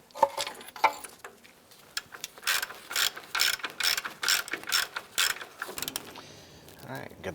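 Ratchet clicking in rapid bursts while a bolt is threaded into the upper control arm of a 2003–2012 Chevy Colorado rear-wheel-drive truck, close and fairly loud, with short pauses between strokes.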